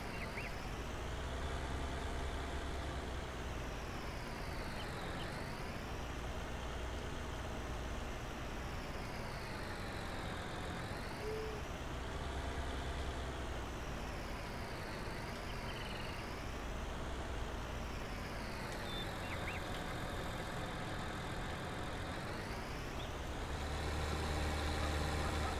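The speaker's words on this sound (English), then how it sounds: "And this tractor will just push that thing all over." A tractor engine in Farming Simulator 19 drones steadily, rising and falling in pitch in slow waves as it labours across a field, continuous and moderately loud with no talk.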